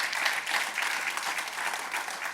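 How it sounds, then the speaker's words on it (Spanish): A church congregation claps loudly in praise to the Lord, a thick, continuous burst of applause from many hands, steady and fairly close without speech over it. "Denle fuerte aplauso al Señor porque Él es bueno."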